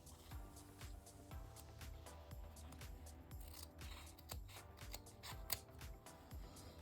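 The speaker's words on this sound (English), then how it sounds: "then you want to cut your ribbon going across" Scissors snip ribbon for a candy apple bow in a run of quick, faint crisp cuts and rustles, repeated at a steady rhythm close by, with no voices.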